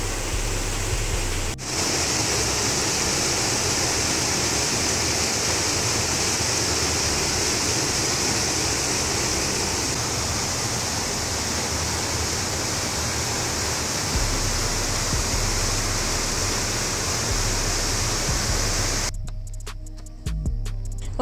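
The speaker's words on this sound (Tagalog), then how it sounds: "ang ganda pakinggan ng tunog ng lagaslas ng tubig" Steady, loud rush of flowing water, a continuous broadband roar like a small waterfall, cutting off abruptly near the end.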